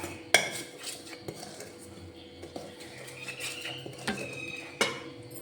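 A spoon clinks and scrapes against a bowl, mixing three ingredients for leaf-wrapped ada, with several sharp knocks and softer swirling stirs in between, fairly close.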